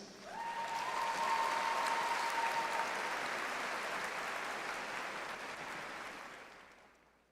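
Audience at a spring university commencement ceremony applauds doctoral graduates, a broad, steady wash of clapping with a brief thin whistling tone early on, fading out gently at the end.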